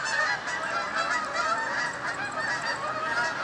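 A flock of geese honks steadily on a morning near a football field, a dense, continuous chorus of overlapping nasal calls at fairly close range with no talking.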